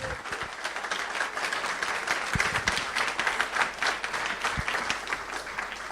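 A symposium audience applauds a Jamaican music figure at a tribute event. The dense clapping is fairly close and holds steady for several seconds, with a few sharper individual claps standing out.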